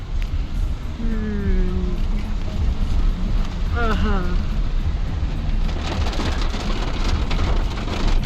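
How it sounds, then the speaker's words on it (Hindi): Steady, heavy rain drums hard on a surface, with a constant wash of noise; a few brief tonal squeaks rise over it partway through. "अच्छी खासी बारिश हो रही है यहाँ पे।"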